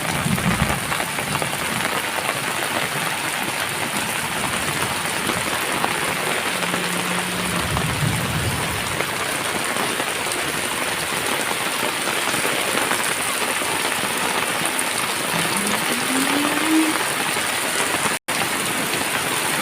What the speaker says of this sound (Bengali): এত বৃষ্টি পড়ছে যেতে পারছি না